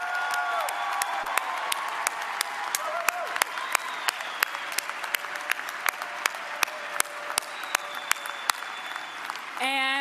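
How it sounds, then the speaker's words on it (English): A commencement crowd applauds graduates with steady, dense clapping that carries on throughout, individual claps popping through and a voice briefly heard over the noise near the end. "Let's actually give a round of applause to all of our graduates again."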